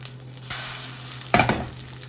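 Steady, close sizzle of a sole fillet frying in a pan just after it is flipped, with a soft shift early on and a louder spatter burst near the end; no voices.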